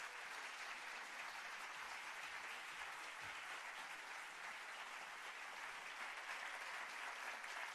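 Steady audience applause filling a Free Library event hall for Cokie Roberts' arrival, a dense, even wash of clapping from a sizable crowd, continuous from start to end.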